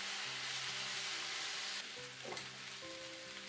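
Noodles stir-fried with egg and beef in a hot pan make a loud, continuous sizzle with a few scrapes and stirs near the middle. A faint tonal hum sits underneath, and no one speaks.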